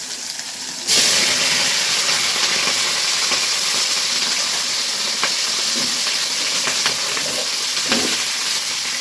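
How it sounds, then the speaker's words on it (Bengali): Cauliflower florets dropped into hot oil in a karahi set off a steady, loud frying hiss that starts abruptly and continues throughout, with occasional crackles and pops. "অন্য কড়াইতেও তেল গরম হয়ে গেছে"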